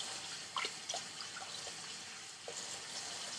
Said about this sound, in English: Turn the faucet on.